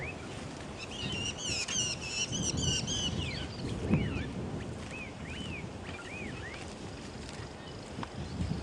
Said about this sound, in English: The drongos are making plenty of noise. And so are the oxpeckers.